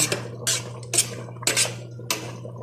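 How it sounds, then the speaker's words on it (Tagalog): Squash (kalabasa) tipped into a metal cooking pot, with four separate clanking, scraping bursts of utensil against metal at a steady pace over a low steady hum, close by, no talk. "ibubuhos ko na po ang ating kalabasa"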